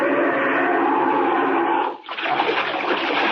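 A steady rush of churning water fills the space, breaking briefly and then resuming, like a large body plunging into icy Arctic sea as a radio drama sound effect.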